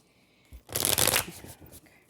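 A single brisk tarot card shuffle, a loud riffling burst lasting about a second, close by in a quiet room.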